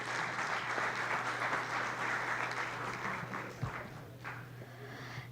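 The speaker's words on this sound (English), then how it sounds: "Big round of applause for all of them" An audience gives a sustained round of applause for panelists at a sustainability conclave, steady dense clapping that holds for several seconds and thins slightly toward the end.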